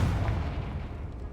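Confringo spell cast in Hogwarts Legacy, a loud booming fiery blast that hits at once and then rumbles away in a fading tail, with no talking over it.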